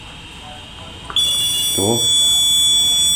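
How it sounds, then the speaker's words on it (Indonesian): The buzzer of a homemade vibration sensor alarm, set on a tiled floor, starts up suddenly as a loud continuous high-pitched tone, with a brief spoken sound just before and a short vocal noise over it. "Ketika alat ini bergetar buzzer akan aktif seperti itu."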